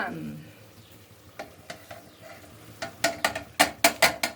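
Mutton sambar masala is stirred in a frying pan with a soft sizzle underneath, building to a run of sharp, close spoon clicks and scrapes against the pan near the end.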